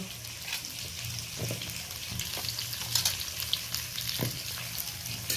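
Pointed gourd and other vegetables fry lightly in a pan with little oil for a chili curry, giving a steady, gentle sizzle with occasional soft stirring scrapes and clinks.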